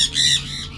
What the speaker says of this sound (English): The birds are now attacking.